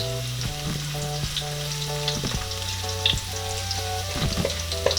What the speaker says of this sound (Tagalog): Hihintayin lang po natin na mag-golden brown ang kulay ng ating bawang para lumabas po yung kanyang aroma.